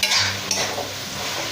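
Ash gourd pieces are stir-fried in a pan with a steady sizzle and a continuous scrape of stirring, close and fairly loud throughout.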